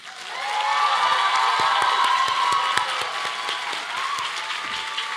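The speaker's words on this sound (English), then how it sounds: "Graduates, please show your appreciation to them with a round of applause." Graduates at a commencement eve dinner give the standing faculty a warm round of applause: dense clapping rises quickly from quiet, holds steady and broad across the room, then tapers slightly, with faint crowd murmur beneath.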